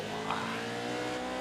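A racing truck in a sim racing game launches off the start line at Hockenheim, its engine revving hard in a dense, steady roar with a brief rising whine layered over it.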